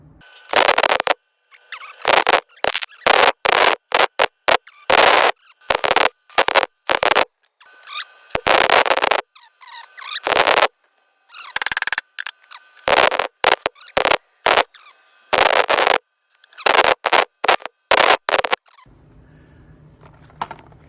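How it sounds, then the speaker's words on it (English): Welding on a John Deere riding mower deck: loud, close bursts of harsh crackling arc noise, each lasting a second or so and separated by short pauses, then a quieter steady hum at the end. "let's get to some welding again"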